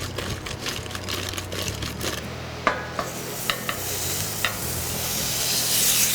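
Squash coated in olive oil, salt and pepper sizzles steadily on a hot barbecue grill, a close, continuous crackling hiss with a few sharper pops and light scraping, with no talking.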